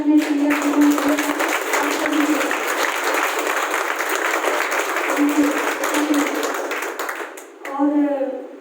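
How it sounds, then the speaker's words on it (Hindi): Steady, loud audience applause at a gathering in Karnal, continuous clapping throughout that dips briefly near the end before a short tonal sound and a final burst. "तो एक बार मैं फिर से दिल से तालियां चाहूंगी अपने सीनियर को।"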